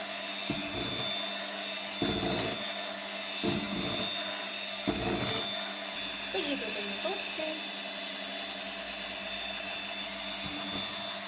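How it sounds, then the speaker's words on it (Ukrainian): An electric mixer on its lowest speed whips egg whites for a honey cake, giving a steady motor whine with a few louder bursts as the beaters knock against the bowl. "на найменшій швидкості міксера збиваю"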